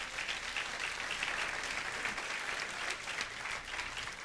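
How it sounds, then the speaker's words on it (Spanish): A church congregation applauds steadily, a dense, even wash of many hands clapping at moderate distance with no talk over it. "Denle un aplauso al Señor por eso."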